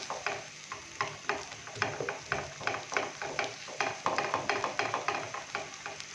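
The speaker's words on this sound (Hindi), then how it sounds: "अभी मैं इसके अंदर अंडा डालूंगा। अंडा डालने के बाद इसको अच्छे से मिक्स करेंगे और इसके छोटे छोटे पीसेस कर लेंगे जल्दी से।" Egg is stirred and scrambled in a hot pan, with rhythmic scraping strokes about twice a second over a soft continuous sizzle, close and fairly quiet, no talk.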